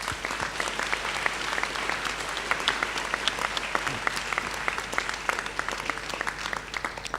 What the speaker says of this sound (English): show your appreciation with a round of applause